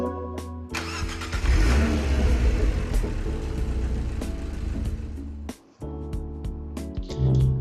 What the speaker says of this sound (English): my car is the Abarth 500